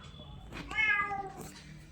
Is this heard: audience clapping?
no